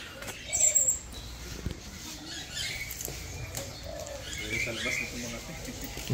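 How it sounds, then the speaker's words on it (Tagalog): Pigeons coo softly in a zoo, low murmuring calls under a quiet background of wing flutters and faint chirps, while people talk nearby. "kalapati na naman."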